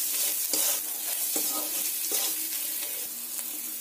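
Ground spices fry in a pan for an egg and potato curry, giving a continuous hiss with a few scraping stirs of a spoon at regular intervals and no voices.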